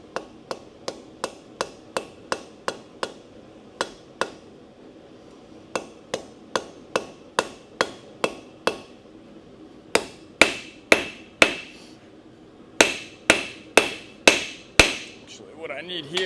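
A blacksmith's ball peen hammer strikes metal on an anvil in a long run of sharp, ringing blows, close and loud, coming in quick bursts with short pauses between them.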